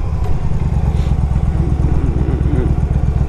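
A 2005 Yamaha V Star 1100 motorcycle engine running close and loud, a steady, deep, pulsing rumble with an even rhythmic throb throughout.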